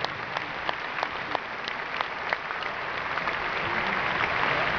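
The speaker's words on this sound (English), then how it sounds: "I think we'll have another round of applause which will cover them and get it off the stage." Sustained applause from a concert audience at a live tribute show in Liverpool's Echo Arena, a dense wash of many hands clapping, steady and fairly loud throughout, swelling slightly toward the end.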